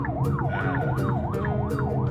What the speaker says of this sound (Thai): ทั้งหลังเฮามีอัมบูแลนซ์เดี๋ยวจะได้หลีกให้รถ